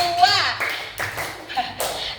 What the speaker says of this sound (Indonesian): Tepuk 1, 2.